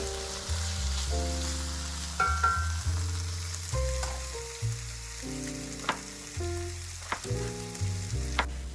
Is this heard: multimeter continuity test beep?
no